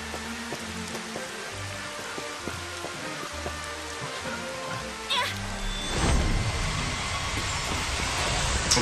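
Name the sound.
downpour rain magic spell in video game Final Fantasy XV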